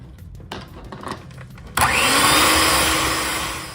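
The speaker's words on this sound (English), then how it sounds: "we're going to start off by creaming our softened cream cheese and butter" An electric mixer creams softened cream cheese and butter with sugar for banana pecan bread, starting after a few clinks and bumps and then running as a loud steady whir that fades slightly toward the end.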